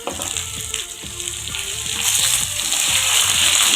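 Onions sauté in a pan for spicy crab masala gravy, a loud continuous frying hiss with low scraping stirs underneath that grows slightly louder toward the end.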